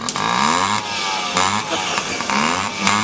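A motorcycle rigged to pull a wagon revs in repeated loud surges close at hand, its engine note climbing and dropping several times.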